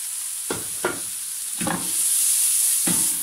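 Onions and zucchini fry in a hot pan with a steady bright sizzle, broken by a few scraping stirs as the vegetables are moved around, close and without talk.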